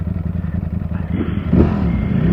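Ducati Panigale V4 engine with Euro 4 exhaust, a fairly muted motorcycle note that rises as the bike revs and accelerates partway through.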